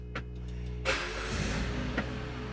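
Engine of a concept car abandoned for twelve years idling steadily after start, a low continuous hum with a brief mechanical rise and a couple of small clicks.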